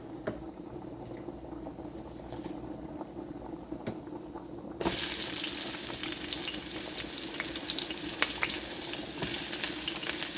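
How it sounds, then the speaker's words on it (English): White and red onions sauté in a cooking pot, starting as a soft sizzle that jumps to a loud, steady, dense frying crackle halfway through. "here in my cooking pot, I am going to saute white onion and red onion"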